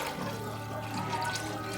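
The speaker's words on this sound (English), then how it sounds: "let's go ahead and add some water" Water pours into a pot of beef broth on lowered heat in a home kitchen, a steady broadband rush lasting the whole moment, close and alone with no talk.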